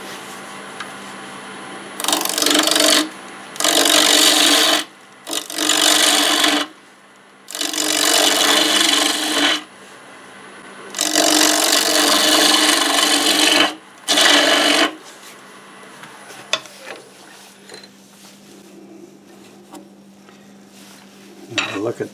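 A black locust wood bowl is turned and hollowed on a lathe at about 1500 RPM, with loud bursts of scraping cuts lasting one to three seconds separated by quieter gaps of machine hum.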